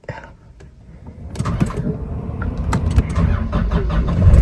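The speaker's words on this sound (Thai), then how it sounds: "ขออนุญาตสตาร์ทรถนะคะ" A car engine cranks and starts in a used car with about 50,000 km on it, with rumbling engine noise building and continuing loudly, close by, while someone talks.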